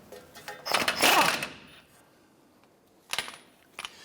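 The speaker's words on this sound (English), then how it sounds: "Using a 27mm socket, we're going to get loosen and remove our ball joint nut here." A 27mm socket loosens the lower ball joint nut on a 2011–2018 Ram 1500 during wheel bearing and hub work: a rapid metallic ratcheting burst, quiet pause, then two shorter clicking bursts, close by.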